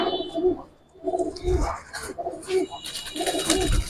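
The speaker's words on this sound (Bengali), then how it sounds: "কবুতর ফেদার দেখেন, বাচ্চা কবুতর" Giribaz pigeon chicks coo close by in soft, repeated throaty bursts with short pauses, mixed with rustling and handling noise.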